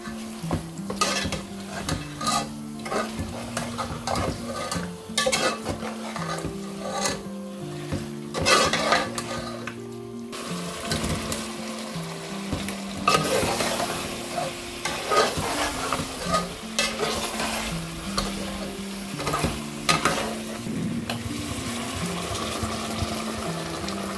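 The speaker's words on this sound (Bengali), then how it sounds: "আর এখন মাংসটারে নাইরা চাইরা দেবো মশলার সাথে মিক্স কইরা।" Meat is stirred with spices in a pot, the ladle scraping and clanking against the metal in a busy rhythm over a constant sizzle, with occasional louder knocks and a background hum.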